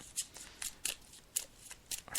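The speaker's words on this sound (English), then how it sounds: "So I'm just shuffling the tarot cards now" Tarot cards shuffled by hand, giving soft, quick papery riffling bursts at irregular intervals, faint and close with no talking.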